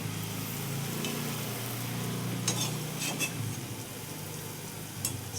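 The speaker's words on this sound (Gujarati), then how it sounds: "બ્રાઉન થઈ જાય ત્યાં સુધી આપણે આને તેલમાં સાતળવા દેવાનું છે" Pitha frying in oil until browned: a steady, low sizzle and bubble runs throughout, with a few brief clinks and scraping stirs partway through, fairly quiet and close.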